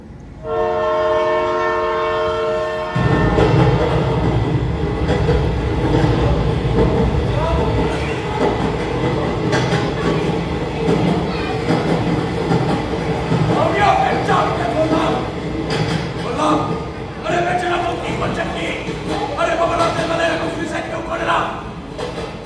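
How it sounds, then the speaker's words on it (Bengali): A train horn sounds in long tones, then a loud rumbling train sound effect with clattering, played during a comedy stage play at Sarat Sadan, while voices talk over it. "ট্রেন।"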